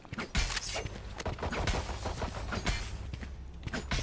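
Rapid gunfire from a first-person shooter match, a dense run of sharp cracks and bursts filling the whole stretch, with brief voice chatter mixed in beneath the shots.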